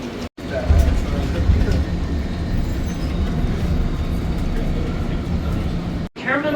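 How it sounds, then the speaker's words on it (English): An airport terminal train rumbles steadily along the rails at close range, with a low hum and faint rattling throughout. "Alright, we'll get this train."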